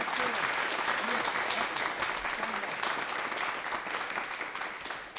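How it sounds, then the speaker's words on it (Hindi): Audience at a Rajasthani comedy poetry gathering breaks into loud, sustained applause, dense clapping from a large crowd filling the whole stretch and tapering slightly at the end. "एक बार जोरदार तालियां बजाओ"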